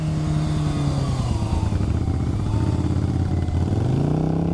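Cruiser motorcycle engine heard while riding, a continuous loud throb with pitch dropping and then rising again as gears are shifted, steady and close throughout.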